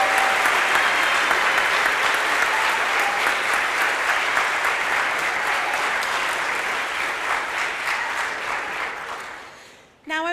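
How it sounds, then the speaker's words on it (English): Sustained audience applause for a graduating class at an academy award ceremony, dense even clapping that slowly thins and fades over about ten seconds before a voice resumes at the end. "Let's give this class one more round of applause."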